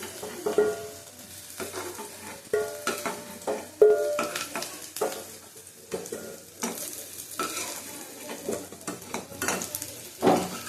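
Pointed gourd frying in oil in a pan, heard as a soft sizzle broken by frequent clinks and scrapes of a spatula against the pan in an uneven rhythm, with no voices.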